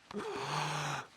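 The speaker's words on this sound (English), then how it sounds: "Okay, take a long, deep breath" In a cartoon doctor's exam, a monkey takes a long, deep breath lasting about a second. It sounds breathy and airy with a low rough undertone, close and fairly soft.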